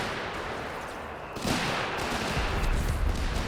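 Mortar fire in Company of Heroes 3 goes off with a heavy thump partway through. A rolling rumble of distant battle gunfire and explosions continues after it.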